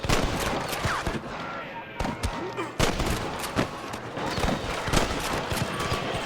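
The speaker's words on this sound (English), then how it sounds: "Good shooting, boy! There's one more for the vultures." Gunfire in the video game Red Dead Redemption, a dense run of sharp shots and bursts repeating over the full stretch, loud and close, mixed with game background noise.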